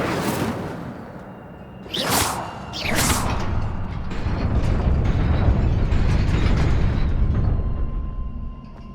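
An Incendio fire spell cast in Hogwarts Legacy: two sharp whooshing bursts close together, followed by a sustained roaring rumble of flame that holds loud to the end.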